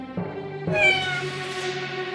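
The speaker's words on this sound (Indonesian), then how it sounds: "mereka mendengar kucing mengeong" A cartoon cat meows clearly, a single drawn-out call with rising pitch, close by and fairly loud against a quiet background.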